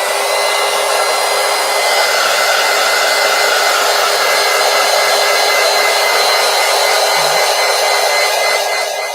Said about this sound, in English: let me hit this with the heat gun here.